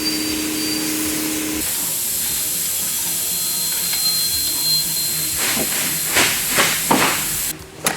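A 3/8 inch impact wrench drives a 13mm bolt during a front strut replacement on a 2007 Chevrolet Equinox, giving loud rattling bursts that hammer in quick succession after a steady hissing mechanical whine.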